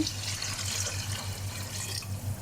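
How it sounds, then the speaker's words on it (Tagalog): Water poured into a shrimp sauce in a pan while cooking Arabic-style shrimp, a steady close running-liquid hiss over a low constant hum, with no talking. "Lagyan ko yan ng tubig ang sauce kagaya nito."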